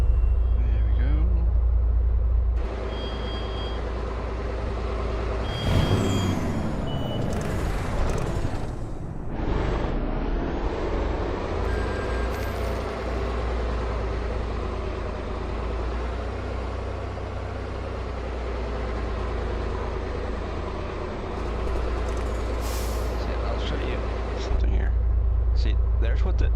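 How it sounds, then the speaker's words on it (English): Cabin sound of a truck in a modded convoy driving game with a soundproofing mod, a steady low engine rumble and road drone at even loudness, with a soft voice talking quietly over parts of it. "There's what the truck sounds like from inside. That's with the soundproofing mod enabled."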